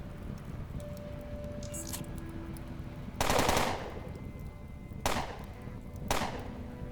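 Submachine gun fire in the video game Underrail: three short, sharp bursts ring out over quiet ambient game background, the first longest, with no talking.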